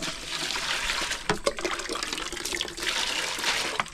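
Tap water runs steadily into a sink while dishes are washed outdoors, a continuous close splashing rush with a few brief clatters and gurgles, no talking.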